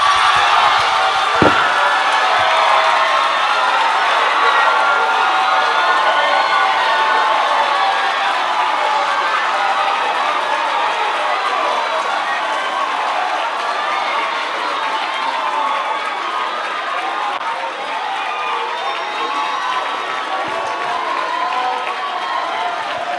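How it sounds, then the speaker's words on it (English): An audience at a semi-final competition event breaks into sustained applause and cheering, a loud, dense wash of clapping and shouts that holds steady and slowly eases, with one sharp knock early on. "give them a round of applause"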